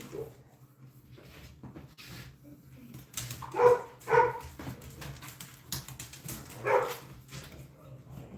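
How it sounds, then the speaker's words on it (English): Dogs barking and growling outdoors, a few sharp barks clustered mid-way with lower growling and whimpering between, moderately near, with faint background noise. "It's a lot of growling and barking out there."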